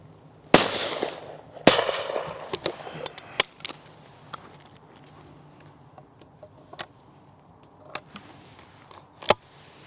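Browning B725 Black Edition over-and-under shotgun firing at clays outdoors, two sharp loud blasts about a second apart, each with a ringing decay, followed by scattered fainter clicks and knocks.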